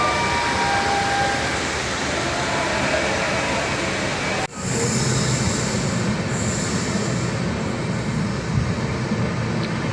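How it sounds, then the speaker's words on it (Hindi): The Prayagraj Express pulls out of the station for New Delhi with a steady, loud rumble of railcars and wheel noise, a brief squeal and a sharp clack partway through, and faint voices underneath. "ट्रेन 9:30 बजे प्रयागराज से नई दिल्ली के लिए रवाना हुई।"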